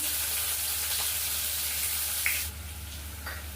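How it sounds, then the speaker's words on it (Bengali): Cumin seeds fry in hot oil in a pan while a chicken pakora dish is being cooked, giving a steady close sizzle with a couple of small clinks and a slight drop in level near the end. "তেল বসিয়ে দিয়েছি সামান্য একটু জিরে ফোড়ন দিয়ে দিচ্ছি"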